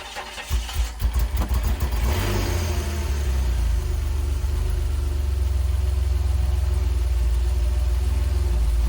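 A DeLorean with Bosch K-Jetronic fuel injection cranks with a few uneven chugs, catches after about two seconds and settles into a steady, smooth low idle, close and loud, with no talking.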